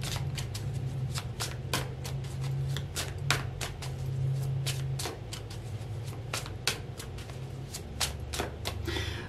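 Close, crisp shuffling of tarot cards during a daily reading, with a steady series of sharp riffles and slaps over a low background hum and no speech.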